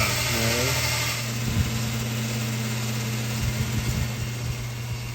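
A 2025 Yamaha YZ250 two-stroke with a 304cc Athena big bore kit and a GET boost module revs hard on a dyno, a loud steady high-RPM drone running rich near the rev limiter, with a rising pitch sweep at the start.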